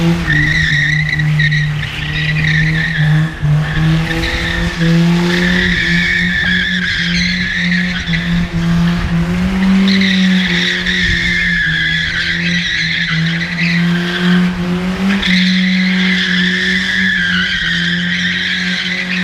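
BMW E36 with a welded differential drifting, tires squealing and skidding in long, loud, wavering howls over a droning engine, rising and easing in repeated passes with no talk.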